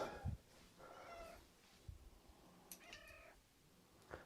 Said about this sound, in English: Let me just let my cat in.